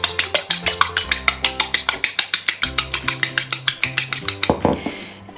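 Egg white and a teaspoon of sugar get mixed briskly in a bowl, a rapid series of regular clinking, tapping strokes of a utensil against the dish, close and crisp, ending with a louder scrape.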